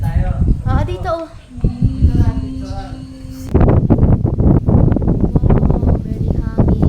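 Strong wind buffets the microphone on a hilltop by a castle, rumbling loud and continuous while people talk over it, gusting harder in the second half.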